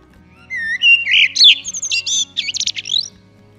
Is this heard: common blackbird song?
yes